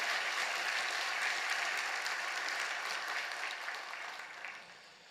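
A church congregation applauds during a Sunday service, soft distant clapping spread evenly across the hall for several seconds before dying away.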